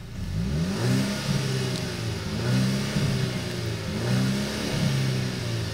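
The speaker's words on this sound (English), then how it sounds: "here's the exhaust sound" A car's exhaust note rises and falls through several throttle revs over a mid-pitched idle rumble. It is heard up close and alone, in repeated swells.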